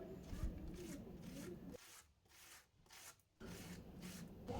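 Potatoes scraped over a grater in steady back-and-forth rasping strokes, close and fairly loud, with a quieter pause partway through before the grating resumes.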